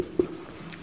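Chalk or marker writing on a board during a classroom lesson, a single short scratchy stroke, brief and close.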